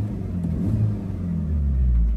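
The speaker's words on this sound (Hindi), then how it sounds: "अब मैं रेव करता हूँ, फिर आपको आवाज़ आएगी इंशाल्लाह।" Changan Karvaan 1200cc MPV, a 2024 Plus model with a dual overhead cam engine, revving from inside a quiet cabin, a steady low rumble that swells slightly and holds loud throughout with no talk.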